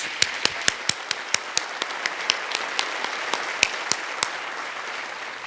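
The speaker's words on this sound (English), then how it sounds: "I want a round of applause" A commencement crowd applauds steadily in a large hall, a dense wash of clapping with sharp individual claps popping out near the front, continuous and moderately loud throughout.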